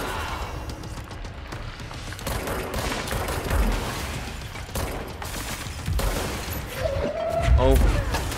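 Gunfire in the video game Control: dense, rapid bursts of shots crackle through the whole stretch over a busy game soundscape, building louder toward the end.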